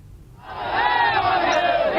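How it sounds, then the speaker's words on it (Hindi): Crowd at Ram Vilas Paswan's funeral at Janardan Ghat, a mass of voices rising from quiet into a loud, sustained collective shout of slogans, close and continuous. "रामविलास पासवान अमर रहे के नारे देखिए"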